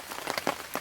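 Rain falling on a campsite, heard as soft, scattered patter with a few brief, separate droplet hits over a hissy background. It is fairly faint and close, and no voices can be heard.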